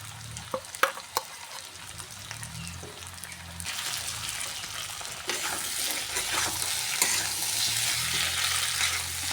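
Ginger-garlic paste hitting a pan of fried potatoes, a few sharp clicks and stirs at first, then a louder, steady sizzle of frying that swells midway and holds to the end.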